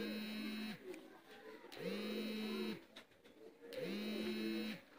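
Three low, drawn-out coos from teddy pigeons repeat at a steady pace, each about a second long, with soft rustling between them.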